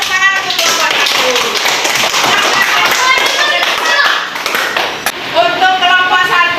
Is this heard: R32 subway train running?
no